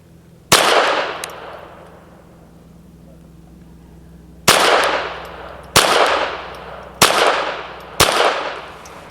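A Hammerli Forge H1 .22 pistol fires SK long rifle match ammunition outdoors, one loud shot, a pause, then four more shots in a quick, even string, each with a short ringing tail.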